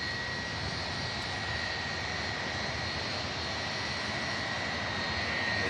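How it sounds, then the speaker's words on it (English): Jet engines of a one-year-old Egypt Air Airbus A321neo idle after pushback from Terminal 2, a steady broadband roar with a high whine, continuous and moderately distant, no voices. "Pushed back from T2 we have the Egypt Air A321neo"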